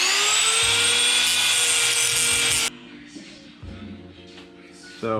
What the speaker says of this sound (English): So I'm just going to grind out the middle and see if it comes out.